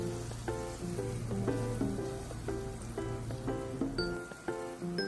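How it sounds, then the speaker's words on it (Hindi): Garlic ginger paste fries on a medium flame in a pan for shimla mirch qeema, giving a steady, soft sizzle beneath melodic background music, with no talking. "और इसको मीडियम फ्लेम पे ही मैं फ्राई कर लूँगी कि बस 1 मिनट के लिए कि लहसुन अदरक की स्मेल चली जाए"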